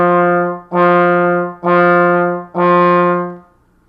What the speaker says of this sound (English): If the note is accented, I like to play with a to syllable, and that sounds like this.